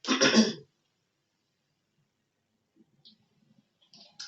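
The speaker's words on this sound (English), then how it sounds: "I think it might have been the champagne that made me cough." A single short, throaty cough right at the start, after drinking champagne, followed by near silence with a few faint small clicks and rustles.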